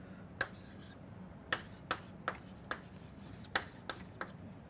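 Chalk or marker strokes on a lecture board, a series of sharp, separate scratching taps at an irregular rhythm, close and fairly faint over a quiet room hum.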